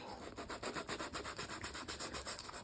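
Cheap sandpaper rubbed back and forth on a surface, a steady run of close, even scratchy strokes with no voices.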